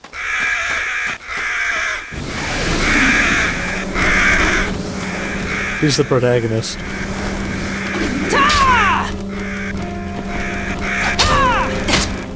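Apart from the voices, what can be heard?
crows cawing in the video game Fragile Dreams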